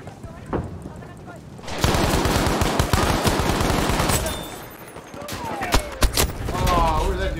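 Lewis gun fire in the video game Battlefield V: sustained rapid automatic bursts with sharp reports and battle noise, loud and close, pausing briefly before more shots and clatter.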